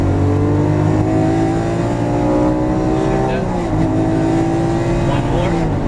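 A Lamborghini Aventador LP700-4 powers out of a turn on a cone-marked track course, its close, loud engine drone carrying a rich harmonic tone that briefly dips before climbing again.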